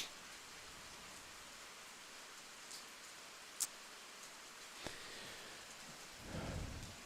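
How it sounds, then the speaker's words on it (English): Light, easing rain falls outdoors as a faint, steady hiss, with a few soft taps and a low rumble swelling near the end. "The rain is dying down."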